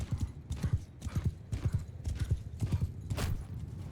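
Horses gallop in Mount & Blade II: Bannerlord, with rapid clip-clop hoofbeats from mounted horse archers pounding in uneven clusters and a brief whinny near the end, moderately loud and without talk.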